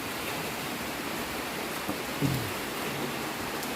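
Rain falls steadily all day around a house, a soft, even wash of drops heard alone at low level, with a brief faint knock partway through.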